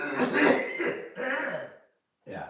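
Coughing from an irritated throat, two close bursts of harsh coughs followed after a brief pause by one more short cough, near and fairly loud with no talking.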